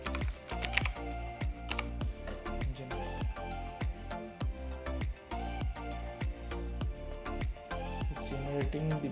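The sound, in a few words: typing on a computer keyboard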